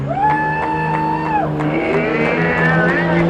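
A diesel truck engine revs hard in a long sustained pull at a night truck-pulling event, loud and close, its pitch holding steady before dropping and climbing again as the truck drags the sled forward.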